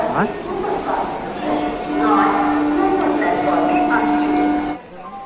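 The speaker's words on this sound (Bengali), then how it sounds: "এটি হলো ভারতবর্ষের বৃহত্তম হাওড়া রেলওয়ে স্টেশন এখানে রোজ লক্ষ লক্ষ মানুষের ভিড়" Busy crowd murmur and train rumble fill Howrah railway station in Kolkata, with voices, a long steady tone like a train horn or announcement drone, and general platform bustle, all fairly loud before dropping off near the end.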